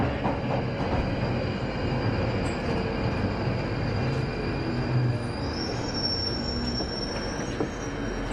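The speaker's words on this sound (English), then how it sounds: "This train terminates at Morden." A London Underground train on the Northern line toward Morden, running with a loud, continuous rumble of wheels on track and rising high-pitched wheel squeal near the end.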